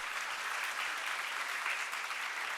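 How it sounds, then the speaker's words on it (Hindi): Children at the Pakistan Learning Festival in Lahore get a dense, even burst of applause from a hall audience, steady and fairly distant throughout with no talk over it. "एक बार जोरदार तालियां इन सब बच्चों के लिए।"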